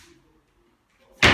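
A wooden chest drawer in a modern rented apartment bedroom shuts with one loud, sharp slam after a near-silent pause, close and abrupt.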